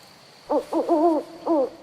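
An owl hoots four times in a short uneven series, the calls clear and moderately close over a quiet background.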